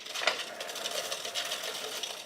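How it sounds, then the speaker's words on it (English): A 13,000 lb winch cable is pulled out by hand in free spool, giving a continuous close whirring rush for a couple of seconds, with no talking. "Now we can free spool the winch, lock it down, give it a pull."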